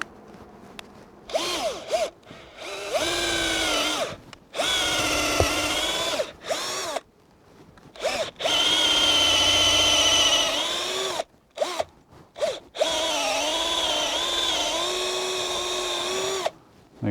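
Power drill boring a tap hole at an upward angle into a sugar maple trunk, a loud close whirring whine in several long runs broken by short stops, with the pitch shifting as the bit bites into the wood.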